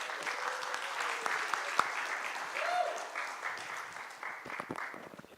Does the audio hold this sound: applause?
yes